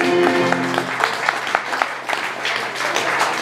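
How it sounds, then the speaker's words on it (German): Applause for the artists at a youth-hostel benefit concert, a crowd clapping fairly close with some sharper individual claps, as a held musical tone fades out at the start. "vielleicht nochmal für jeden einen kleinen Applaus"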